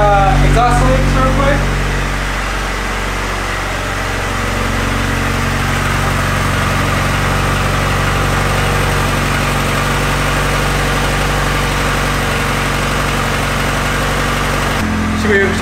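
A Honda Civic engine idles with its exhaust running, a steady low rumble held at an even level and close by, with a brief clatter of handling noise at the start and end.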